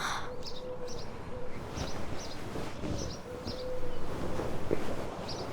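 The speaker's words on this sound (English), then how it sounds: "So to begin with, I can hear birds." Morning birdsong outdoors, with repeated short high chirps and calls scattered through a steady background hum, moderately close.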